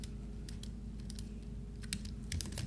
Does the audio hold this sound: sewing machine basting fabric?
no